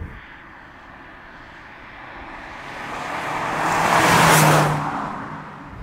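A Vauxhall Zafira GSI accelerating hard as it drives past, the engine note swelling from a distant hum to a loud, close peak, then starting to fade as the car moves away.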